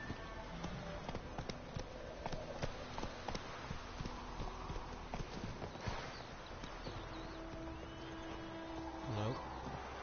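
Horse hooves clip-clop in a steady trotting rhythm in The Witcher 3 video game, with a voice speaking over the top and a brief whinny near the end.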